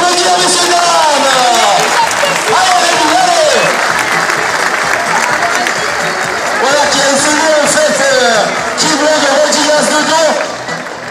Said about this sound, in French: On peut l'applaudir, monsieur dame.